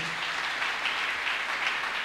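Sustained audience applause at a church gathering, dense steady clapping from a crowd that holds an even level throughout with no pauses.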